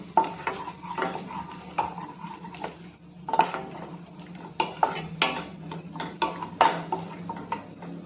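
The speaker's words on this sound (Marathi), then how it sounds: "ते चांगले मिनिटभर परतून घेऊयात।" Dry fruits roasting in ghee on low flame, stirred with a spoon that scrapes and knocks against the pan in irregular bursts over a faint sizzle.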